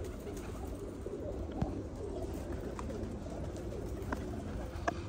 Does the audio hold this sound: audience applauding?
no